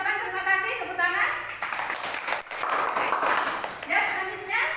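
A classroom group claps during a micro-teaching session, a dense burst of applause in the middle with a voice speaking before and after it.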